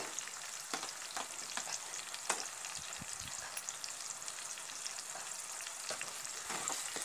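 Onion and ginger garlic paste fry in a pan for a Hyderabadi-style salan, giving a steady close sizzle with scattered stirring scrapes and soft spatula knocks throughout.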